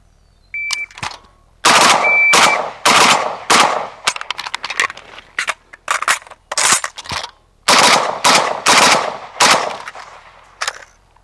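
Rapid WASR 10/63 rifle shots fired at several targets, loud sharp cracks in quick pairs and singles with short pauses between strings, close and dominant, plus a couple of faint timer beeps early on.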